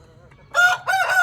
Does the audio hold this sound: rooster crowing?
yes